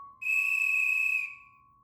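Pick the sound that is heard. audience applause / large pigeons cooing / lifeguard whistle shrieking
lifeguard whistle shrieking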